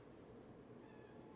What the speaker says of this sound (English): No meowing!